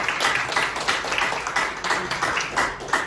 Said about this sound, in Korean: 범민련 남측본부 의장이라는 이팀을 맡으신 이태형 의장님께 다시 한번 큰 박수 부탁드리겠습니다.